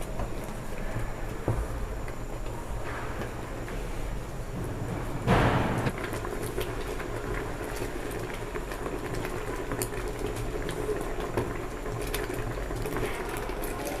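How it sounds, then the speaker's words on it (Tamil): Strawberry jam boils in a pot while being stirred, giving a steady low bubbling and pattering with a brief louder scrape or stir partway through. "அது நல்லா பாயில் பண்ணி வரும்போது அதை நம்ம கிண்டிகிட்டே இருக்கணும்"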